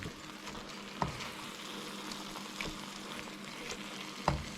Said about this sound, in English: these larger bits, I'm sort of squashing them a bit with my wooden spoon